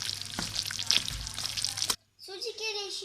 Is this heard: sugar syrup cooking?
yes